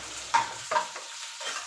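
Green chillies frying in a little oil give a soft, steady sizzle broken by two sharp stirring scrapes early on and a few fainter clinks after, with no voices.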